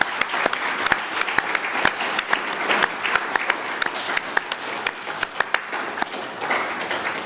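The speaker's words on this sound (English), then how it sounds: "They deserve a round of applause." Scattered applause from a modest gathering at a union live stream, sharp individual claps rising and falling at a moderate, uneven pace for several seconds, sounding fairly near and a little thin.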